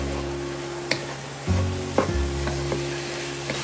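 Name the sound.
stirring cinnamon into chili in a pot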